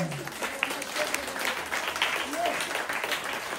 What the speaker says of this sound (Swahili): Yesu makofi mengi.